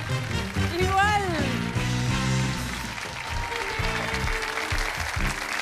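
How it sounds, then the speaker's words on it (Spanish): Broad, steady applause from a television studio audience welcoming contestants, with a host's voice speaking Spanish over it and some music underneath. "Recibamos con un fuerte aplauso a los concursantes del día de hoy"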